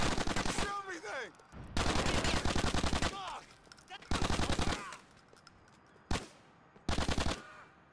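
Machine gun fire in the video game GTA: The Ballad of Gay Tony, loud sustained bursts separated by short gaps, with a single sharp shot between them and one final burst.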